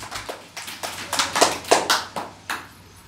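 Short bursts of hand clapping in a children's classroom quiz, several separate claps at irregular intervals, fairly close and moderately loud, with no voices over them.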